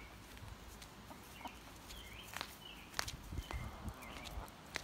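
Backyard chickens cluck and chirp in short bursts while following someone around on a cold day, with faint footsteps among the calls.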